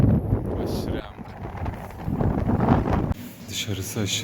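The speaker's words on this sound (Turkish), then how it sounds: "Dışarısı aşırı derecede rüzgarlı." Strong gusting wind across the open ground of the Baku mud volcanoes, buffeting the microphone as a steady low roar with a sharp break near the end, heard under a voice.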